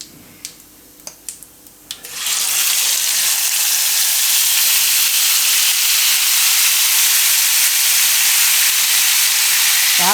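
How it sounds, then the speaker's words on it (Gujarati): Cauliflower florets tipped into hot oil seasoned with asafoetida for Gujarati tandoori cauliflower: a few light clicks, then a sudden loud, steady sizzle that fills the rest of the stretch, with no voices. "હવે આપણે જે ફ્લાવર રાખેલું તો આને આપણે એમાં નાખી દેવું બધું ફ્લાવર"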